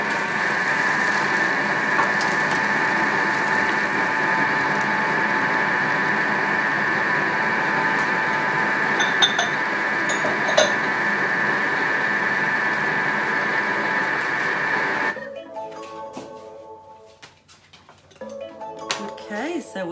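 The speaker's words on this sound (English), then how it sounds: "we need to mix everything for 15 seconds at speed 4" A Thermomix kitchen machine runs at speed 4 mixing savoury flapjack batter, giving a steady, loud whirring hum for about fifteen seconds before cutting off abruptly, followed by quieter handling sounds.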